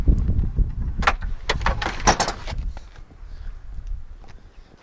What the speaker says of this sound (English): So let's open the tailgate.